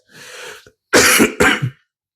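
A person nearby gives a breathy throat clearing, then two loud, harsh coughs in quick succession, with nothing else around them.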